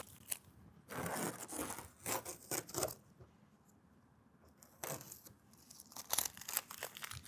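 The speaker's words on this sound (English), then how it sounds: "next we can go ahead and remove our masking tape from the leading edge" Masking tape peeled off the leading edge of a 2024 Ford F-150 hood during a hood protector install, giving bursts of crackly ripping and crinkling in two main spells separated by a quiet gap, close and fairly loud.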